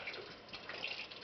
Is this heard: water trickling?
yes